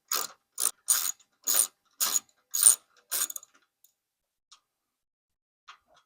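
Ratchet wrench loosening a bolt on a Mercedes Sprinter van strut bracket, seven quick bursts of close ratcheting clicks, then near silence with a couple of faint taps.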